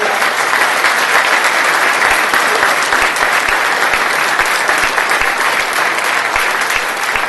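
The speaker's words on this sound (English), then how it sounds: "let's give him a round of applause" A university audience at Cal Poly Pomona applauds a scholarship winner at a fruit festival event, dense sustained clapping that stays loud and even for several seconds.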